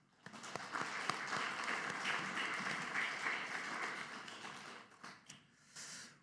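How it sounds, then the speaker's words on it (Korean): A church congregation claps during a Sunday worship service in support of the choir and praise team, a soft spread of clapping across the sanctuary that swells, holds, then tapers off, faint and somewhat distant. "우리 할렐루야 찬양대 또 주일 경배 찬양팀 축복하고 격려하는 박수합니다."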